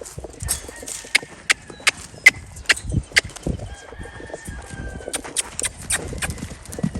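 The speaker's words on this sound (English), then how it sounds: "So he's cantering on the correct lead" Hooves of a Tennessee Walking Horse thud in a steady rolling three-beat canter on soft ground, with a rooster crowing and hens clucking nearby.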